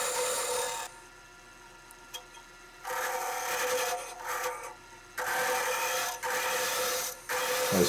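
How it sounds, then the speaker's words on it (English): Half-inch spindle gouge hollowing a wooden goblet on a lathe, close and loud, with bursts of harsh scraping cutting noise. Quieter gaps between the cuts give a stop-start rhythm. "start hollowing out the goblet with half inch spindle gouge"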